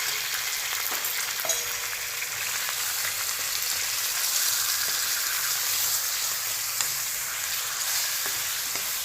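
Chicken pieces frying in a karahi pan with 1 teaspoon of salt added, a loud, steady oily sizzle with crackles and occasional stirring scrapes, close and continuous, no talking.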